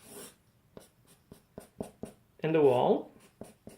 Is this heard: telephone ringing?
no